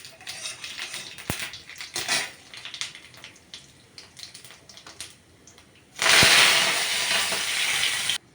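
Two green chilies and kalonji (nigella seeds) hit hot oil for a karela sabji tempering: a loud, steady, hissing sizzle bursts in suddenly and holds, following quieter frying and stirring clatter.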